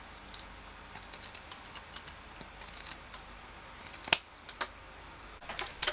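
Scissors snip close to a sewn seam in a run of small, quiet cuts with a few sharper clicks, near and alone in a quiet room.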